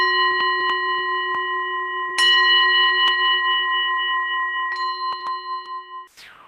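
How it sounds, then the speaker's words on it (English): A mindfulness bell is struck three times, each strike a bright ringing tone that hangs and overlaps with the others, then slowly fades away; a few soft clicks are heard while it rings. "I'm going to ring the bell 3 times."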